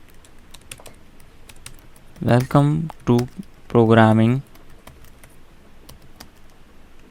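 A computer keyboard is typed on while a first C program is written, giving scattered light key clicks that run through the whole stretch under brief spoken talk.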